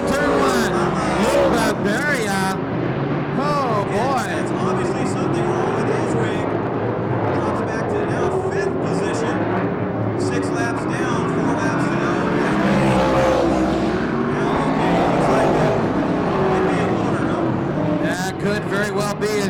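USAC Western States midget race cars run three abreast down the main straight into turn one, their engines droning and buzzing loudly and continuously beneath excited announcer commentary.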